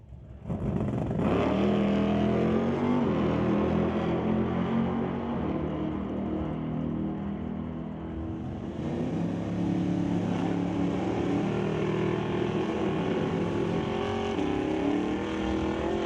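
A Nova and a Corvette drag racing down the strip at Mission Raceway Park, engines roaring loud and steady at full throttle throughout, with no talk over it.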